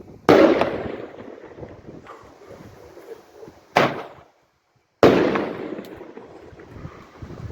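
New Year fireworks for 2025 burst in three sharp booms, with the first and last the loudest, each trailing a crackling, rumbling decay and with a brief silence between them.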